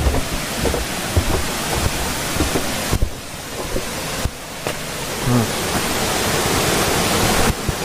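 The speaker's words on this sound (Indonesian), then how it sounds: "aliran air dari air terjun yang di puncak sana" A waterfall at a mountain summit on a hiking trail near Trawas, Mojokerto, a steady broadband rush of flowing water that fills the whole scene, loud and continuous, with a few faint knocks and handling sounds.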